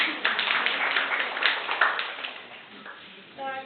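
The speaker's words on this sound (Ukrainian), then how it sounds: "Давайте її привітаємо оплесками." Attendees at an extraordinary session of a village council break into brisk applause, a dense patter of hands that fades after a couple of seconds, with some voices heard in the room.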